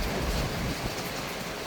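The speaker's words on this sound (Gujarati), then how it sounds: "વડોદરામાં વરસાદનું આગમન થઈ રહ્યું છે." Rain arrives in Vadodara in stormy weather, a brief, even hiss of falling rain that sounds steady and fairly near.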